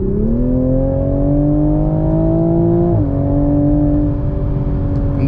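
A 2021 Toyota A91 Supra engine revs under hard acceleration, a loud steady interior drone climbing in pitch, dipping briefly at a gear change around three seconds, then climbing again.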